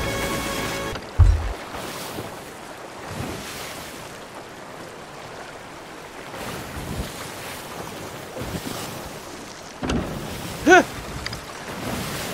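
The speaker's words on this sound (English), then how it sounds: "waves." Ocean waves roll and wash continuously under steady wind noise, with a few louder surges and brief bumps standing out.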